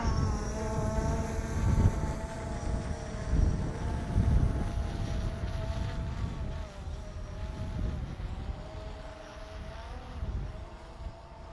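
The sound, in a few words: wind blowing during a drone flight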